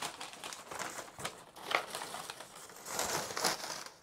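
Paper wrapping torn and crumpled off a replacement orchid plant, a close run of dry crinkling and ripping bursts over about four seconds, swelling louder toward the end, with no talk.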